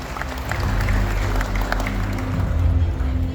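A seated crowd claps together at an Indonesian regional investment commitment event for Banten, a brief, steady wash of applause over a low hum from the hall's sound system.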